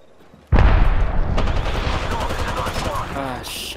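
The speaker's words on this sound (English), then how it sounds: "Look out, grenade!" A loud, close grenade blast in the Apex Legends battle game hits with a sudden heavy boom, then rumbles and crackles with scattered gunfire as the blast decays, and a voice calls out over it.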